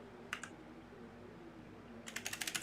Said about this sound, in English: I ain't the best at this keyboard shit.